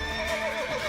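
A horse in the video game The Witcher 3 lets out a loud, close neigh, a single shrill whinny lasting about a second with wavering pitch.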